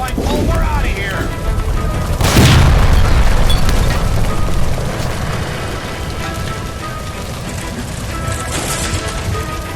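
A gas line blowing up in the 1940s Los Angeles detective game LA Noire: one heavy booming blast with a long rumbling tail, set among noisy action and urgent voices.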